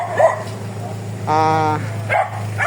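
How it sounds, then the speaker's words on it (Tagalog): A dog gives a short burst of high, strained barking or yelping at close range, with people chatting before and after it. "Ingay ng aso. Ingay-ingay naman, oh."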